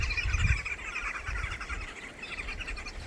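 A flock of green wood hoopoes calling out on safari, a continuous chattering of overlapping chirps at moderate distance over low outdoor rumble.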